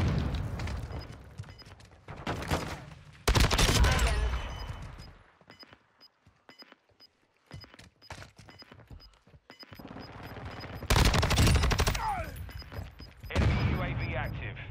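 HCR 56 automatic rifle fire in Modern Warfare 2, with rapid bursts breaking out in several loud clusters, separated by quieter gaps and mixed with other game noise.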